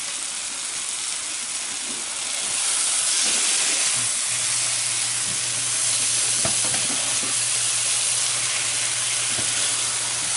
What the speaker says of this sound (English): And that sizzle. It's a beautiful sound.